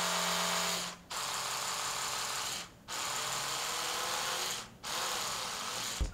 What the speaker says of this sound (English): And you can actually hear the motor changing per brushing style.